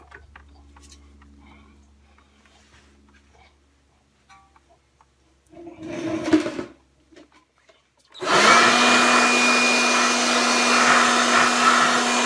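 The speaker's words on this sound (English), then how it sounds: "So I use my little shop vacuum that I have." A small shop vacuum cleaning brake parts on a 2016 Hyundai Tucson switches on after quiet handling noises and a brief rustle, then runs loud and steady with a constant whining hum.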